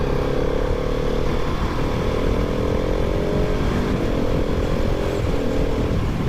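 A 2023 Husqvarna 701 Supermoto with its big single-cylinder engine pulls hard under acceleration, the rising engine note stepping up through quick-shifted gears while heavy wind rush buffets the rider-mounted recording throughout.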